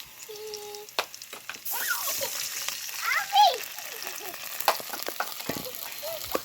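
Water poured into a hot pan of lightly fried onions sets off a sudden loud sizzling rush that keeps crackling and bubbling, with scrapes, a few clinks and a brief voice.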